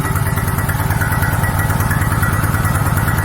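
An Oleo-Mac Line 3500 petrol generator runs close and loud with a steady, pulsing engine drone and no pauses.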